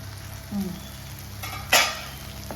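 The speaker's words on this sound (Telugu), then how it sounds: "ఇది మొత్తము బాగా ఫ్రై అయిపోవాలి, పూర్తిగా నీరు అనేది పోయి కలర్ కూడా చేంజ్ కావాలన్నమాట" Fenugreek masala for methi paneer sizzles softly in a pan while a spatula scrapes through it, with one louder scrape near the end.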